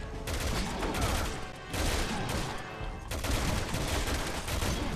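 Dense, continuous gunfire hammers at a boss's arm in Resident Evil 6, a loud unbroken fusillade with two brief dips in intensity.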